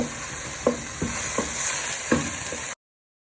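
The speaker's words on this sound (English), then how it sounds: "Breaking up the mince with my wooden spoon." Minced beef frying in a pan for cottage pie while a wooden spoon breaks it up: a steady close sizzle broken by several soft knocks and scrapes of the spoon at uneven intervals.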